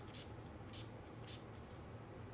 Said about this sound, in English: I'm going to spray my brush